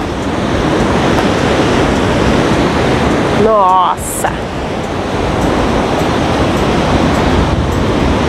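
Rough surf on a windy, cold Guarujá beach, a constant loud roar of waves under heavy wind buffeting, with a brief voice exclamation partway through.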